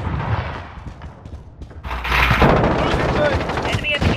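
Rapid bursts of gunfire and thudding impacts in Call of Duty: Modern Warfare, dense and loud, with shouted voices mixed in among the shooting.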